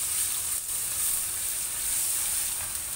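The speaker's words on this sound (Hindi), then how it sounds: "तो अब मैं इसमें डालूँगी लहसुन" Garlic goes into frying onions in a pan, giving a continuous bright, hissing sizzle that holds steady at close range with a faint stir or two and no talking.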